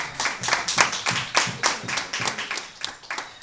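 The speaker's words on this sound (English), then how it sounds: "give him a round of applause, please." A small group at a Rotary Club installation ceremony claps together in quick, uneven bursts, a short round of applause close by with no voices.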